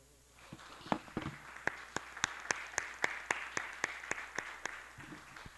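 A church congregation applauds during a Sunday service, a few sharp claps building into a regular rhythmic clapping close by, fading out near the end, with faint shuffling but no speech.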